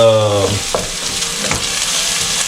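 Onion frying in a pan for Hakka noodles sizzles loudly and steadily, with a couple of stirring scrapes, after a brief bit of a voice at the very start.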